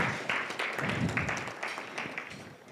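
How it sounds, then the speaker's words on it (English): Audience clapping at a morning gathering in Nairobi, a dense steady patter of many hands that holds at moderate loudness throughout, with no voices on top. "So clap for yourselves for making it here."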